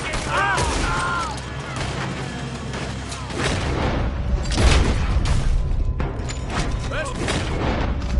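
Continuous gunfire in Red Dead Redemption 2, with repeated loud shots and booming reports over a dense battle din for several seconds, and voices speaking intermittently over the shooting.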